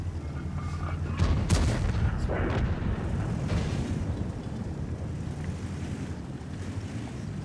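Artillery fire in the World of Tanks tank battle game: a single heavy blast erupts around the one-second mark over a steady rumble of engine and wind-like noise that stays loud throughout.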